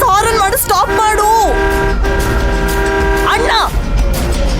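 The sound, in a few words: car horn honking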